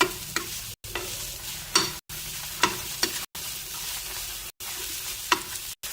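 Chopped onion and tomato sautéing lightly in a pan for methi thecha, with a steady sizzle and repeated scraping stirs at close range, broken by a few brief gaps of silence.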